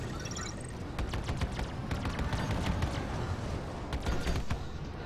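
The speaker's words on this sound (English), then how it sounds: "Kind of like the missile sound effects." Rapid bursts of weapon fire and missile launches from a Gladius fighter in the Star Citizen space game, loud and continuous with sharp repeated cracks and whooshes, with no talk over them.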